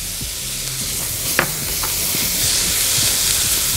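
Corn kernels tumble into a hot frying pan and are stirred, giving a steady close sizzle with scraping and clattering stirs, a sharper hiss as the corn lands, and the frying rising slightly toward the end.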